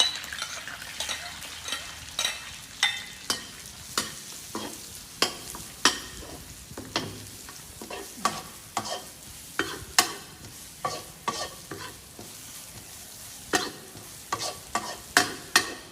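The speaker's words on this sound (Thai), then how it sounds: "จากนั้นเอาส่วนผสมที่เราตำไว้นะคะ มี กระเทียมพริกไทย แล้วก็รากผักชีนะคะ แล้วก็ไปผัด" A pounded paste of garlic, pepper and coriander root is stir-fried in lard or oil, with repeated sharp scraping strokes of a spatula against the pan over a soft, constant sizzle.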